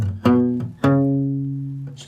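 Guitar notes plucked with down picks in a pickup measure of a Railroad Bill arrangement, part of a short walking bass line: clear separate attacks with the last note ringing out sustained, no voice over it.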